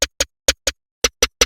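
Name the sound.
chop snare drum sample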